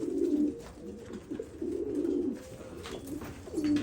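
Pigeons cooing in a loft, several soft low rolling coos repeating close by in a steady rhythm, with faint rustling behind them.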